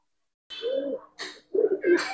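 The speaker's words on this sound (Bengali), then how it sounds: "খুব সুন্দর কবুতর ভাই, একবার লাড্ডু মাথার কবুতর" Racing and fancy pigeons, a Gribaz breed pair, give three or four short cooing calls with brief pauses, fairly close and clear, with no talk over them.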